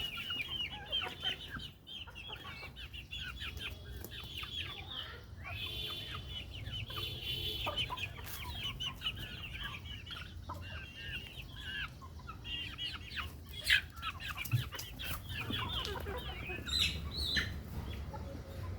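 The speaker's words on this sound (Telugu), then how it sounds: "పెద్ద కోళ్ళు చిన్న కోళ్ళను పడుతున్నాయి." Native country hens cluck and squawk nearby while their chicks peep continuously, a busy, overlapping chorus that runs throughout.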